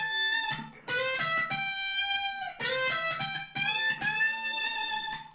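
A guitar lick from a blues tune, a slide up to a high note on the first string and then a full-step bend with vibrato, sustained distorted notes played alone and fairly loud.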